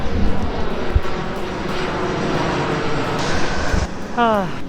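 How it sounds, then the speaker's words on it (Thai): A fixed-wing airplane passes overhead near a Thai university campus, a steady broad engine roar filling the whole clip, while people talk and a brief higher chirping sound rises near the end. "เสียงเครื่องบินกวนใจตลอดนั่นแหละเพราะว่าแบบมันบิน ทุกๆ10นาทีเลย"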